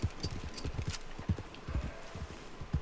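Horse hooves clip-clop steadily in Red Dead Redemption 2, a quick uneven trotting rhythm of close, fairly loud hoofbeats with no talking over them.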